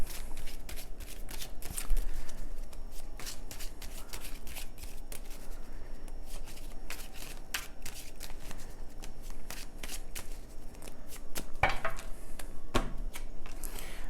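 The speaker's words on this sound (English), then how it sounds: "Let's pull the rest of your cards here." Tarot cards are shuffled and pulled during a reading, a quiet, continuous riffling and slapping of cards with rapid flicking bursts throughout, close and without talk.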